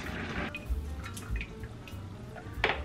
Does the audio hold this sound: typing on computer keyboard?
no